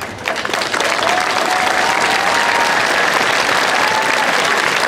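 An outdoor crowd applauds new Swedish citizens at a National Day celebration in a city park, a broad, even wash of clapping from many people that swells quickly and holds steady.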